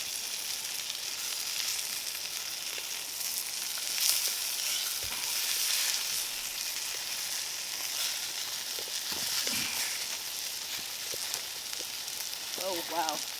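Salmon sears over a Solo Stove Campfire at backcountry Baker Lake, giving a steady crackling sizzle with occasional louder spits and pops at close range and no talk.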